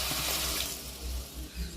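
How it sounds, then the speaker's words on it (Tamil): A short gush of water being poured into a pan of frying beetroot and onions, splashing briefly and then tapering off. "கொஞ்சம் பீட்ரூட் வேகிற அளவுக்கு தண்ணி சேர்த்துக்கலாம் கொஞ்சமாக"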